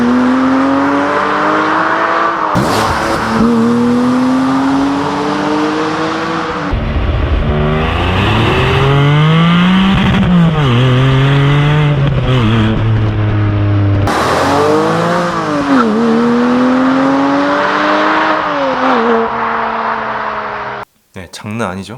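A naturally aspirated Porsche 718 Boxster GTS 4.0 engine revs hard and loud, pitch climbing and falling through repeated throttle blips, with a deep, raspy exhaust note that cuts out abruptly near the end.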